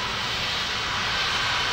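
Airliner engines in a flight simulator roar with a steady, loud, broadband rush as the plane taxis to the runway, with no break.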